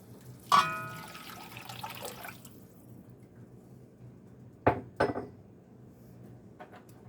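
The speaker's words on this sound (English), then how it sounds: "It's in its own broth, but I'm also going to add about a quart of water." A quart of water is poured into a soup pot holding canned chicken in broth. A sharp metallic clank and a burst of splashing come first, followed later by a few softer knocks and drips in a quiet kitchen.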